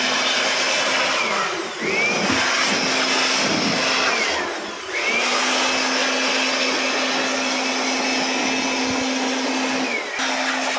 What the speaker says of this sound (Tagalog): Yung technician namin nag-blower para matanggal ang haliw